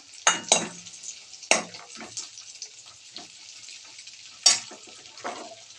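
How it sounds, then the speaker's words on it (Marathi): Grated carrot sautéing in a pan for carrot halwa, with soft sizzling and a few sharp scraping stirs of a spoon against the pan at intervals, close and fairly quiet, no talking. "दोन मिनिटं परतून घेते असं छान गोल्डन कलर आलेला आहे"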